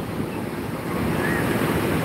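Surf at Lampuuk beach in Aceh Besar washes in a steady, continuous roar mixed with wind noise on the microphone, with no distinct voices.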